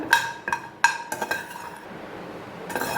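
Turmeric and pepper dry-roast in a pan while a spoon scrapes and clinks against the metal in irregular strokes, close by with no talk.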